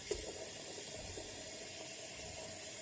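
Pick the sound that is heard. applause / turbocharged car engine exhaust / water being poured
water being poured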